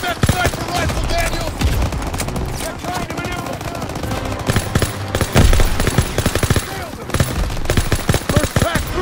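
Sustained World War II battlefield gunfire in Call of Duty WWII, loud rapid machine-gun bursts and rifle cracks rattling continuously throughout, with combat din filling the background.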